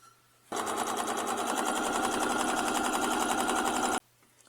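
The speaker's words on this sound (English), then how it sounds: "And I'm going to sew it 1/4 inch." A sewing machine stitching wallet pocket fabric and lining with interfacing, a fast mechanical rattle running steadily for about three and a half seconds, then stopping abruptly.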